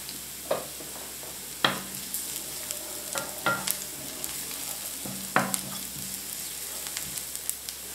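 Onion and a chopped garlic clove fry softly in a pan, a low constant sizzle punctuated by several sharp clinks and scrapes of stirring at irregular intervals, quiet and close with no voices.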